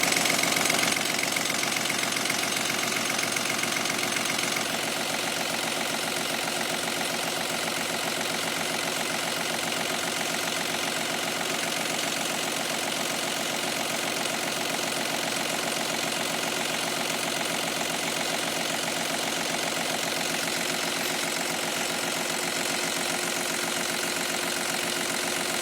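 A diesel engine fitted with a freshly rebuilt Stanadyne DB4 injection pump idles steadily and close by, with a continuous even rumble and a slightly louder first few seconds, and no voices.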